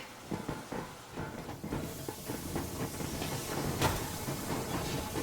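A train in the video game Metro Exodus pushes ahead at full steam, a loud continuous rumbling clatter laced with hissing steam that swells slightly toward the end, with no voices.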